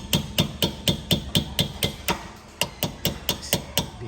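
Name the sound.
tapping a long Allen key to remove a brake pin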